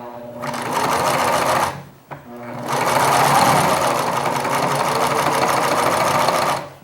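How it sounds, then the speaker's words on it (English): An electric sewing machine fitted with a walking foot stitches fabric for a panel pillow, running in a loud, steady whirring burst, pausing briefly for a click, then resuming a long continuous run. "And keep sewing."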